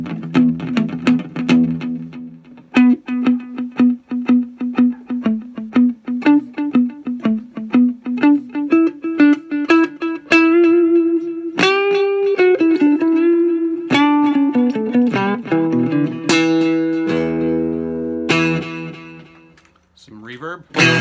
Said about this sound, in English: Dial up some reverb and some delay.